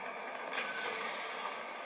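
Train in a mobile video game played on a Samsung Galaxy S24 Ultra: steady broadband rumble and rolling rail noise, louder after a moment, with faint high squeal, no talking.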